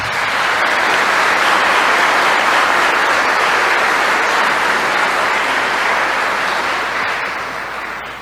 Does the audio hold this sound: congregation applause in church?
yes